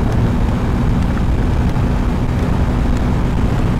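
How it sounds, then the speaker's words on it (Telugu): A Triumph Speed T4 motorcycle runs at full throttle in sixth gear at about 140 km/h, a steady, unbroken roar buried under heavy wind rush, with no talking. "నేను ఫుల్ థ్రాటిల్ ఇచ్చా, మొత్తం ఫుల్ థ్రాటిల్ ఇచ్చినా కూడా 140 వెళ్తుంది"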